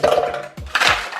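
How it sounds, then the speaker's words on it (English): Ice cubes drop into a blender jar for a homemade Starbucks-style frappuccino, giving a few quick hard clatters and knocks against the container, close and fairly loud, with no voices. "now I'm gonna put my ice in."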